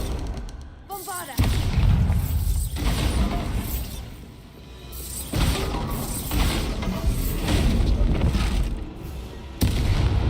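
Repeated heavy booms and crashing blasts from the Bombarda blasting spell in Hogwarts Legacy hit loudly several times across the stretch, with a voice speaking between the bursts.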